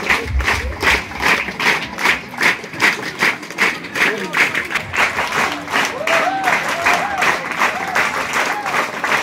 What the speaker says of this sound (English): we welcome ourselves with a round of applause once again